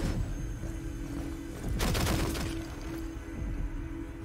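Gunfire in the video game Rainbow Six Siege, a quick burst of rapid shots near the middle, close and loud over steady game ambience and a low hum.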